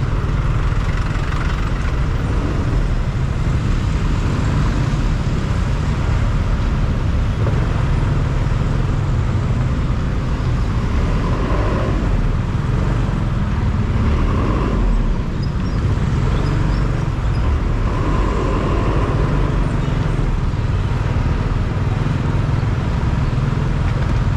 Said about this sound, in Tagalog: Traffic diri po kun.